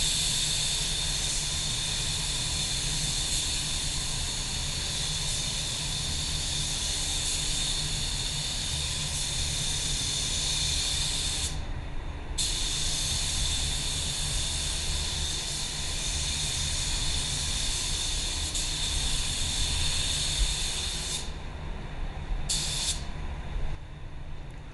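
A spray gun lays clear coat onto a white car in a heavier second coat, a loud continuous hiss close by that breaks off briefly twice before resuming, with no voices.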